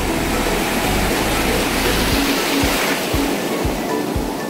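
Sea waves on a Goa beach, a loud, steady broadband roar of surf washing in without pause, close and filling the scene, with no voices heard.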